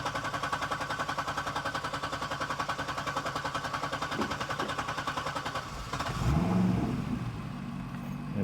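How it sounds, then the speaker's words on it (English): A Chevrolet Corvette with an unresolved cylinder fault, cranked in clear-flood mode with the accelerator floored: rapid rhythmic starter churning goes on for several seconds, then the engine catches with a brief rev and settles. "We're gonna start the engine."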